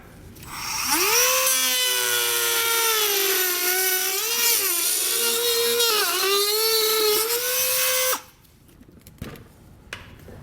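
A rotary power tool whines loudly and continuously as it cuts an area out of a plastic bumper fascia on a 2022 vehicle, its pitch wavering under load before it stops abruptly, leaving quiet handling noises.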